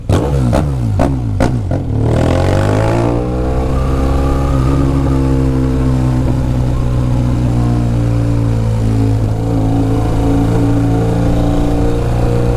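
A 1200 motorcycle is revved hard, with a few sharp throttle blips and then a loud, sustained high-rpm roar that holds steady close by, with no talking.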